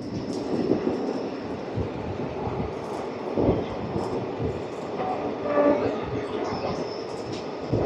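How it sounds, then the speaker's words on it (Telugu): A Vande Bharat train passes on the line near Chennai, heard from aboard the Circar Express as a steady rail rumble with intermittent metallic clatter and brief whooshing swells. "వందే భారత్."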